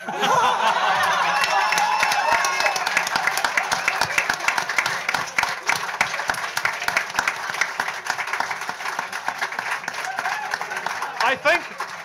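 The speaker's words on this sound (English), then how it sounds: "people are laughing and clapping so much" A studio audience at a comedy show laughs and claps after a 12-year-old's remark about Prime Minister John Key, with steady clapping and chuckles filling the room under ongoing talk.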